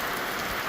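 Steady rain pours at a railway station in Udaipur, Rajasthan, a dense continuous hiss of drops hitting surfaces, close and even throughout with no voices.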